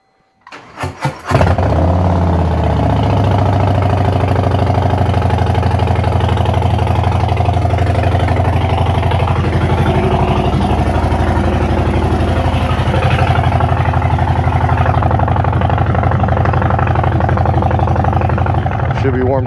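Harley-Davidson Street Bob 117 motorcycle with a Stage One setup starting up, then settling into a steady, loud, loping idle as it warms up, close by and constant for the whole stretch.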